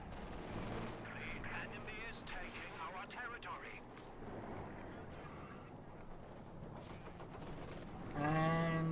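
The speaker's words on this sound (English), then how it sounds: "Artillery firing down up north, trying to take out the machine gun" Artillery shells and machine gun fire in the real-time strategy game Company of Heroes 2, heard as a series of sharp bursts and rattling blasts mixed with a commentator's voice, ending in a loud tonal game alert.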